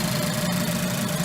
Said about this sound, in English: It's idling right now.